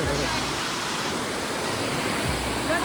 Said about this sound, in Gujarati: અહીંયાથી મસ્ત પાણી આવી રહ્યું છે